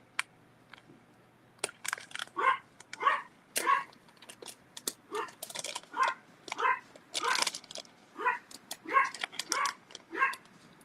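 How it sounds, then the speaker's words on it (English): A dog barks repeatedly indoors in a home, a long run of sharp barks in an uneven rhythm, moderately loud and alone without talk. "the dog is barking"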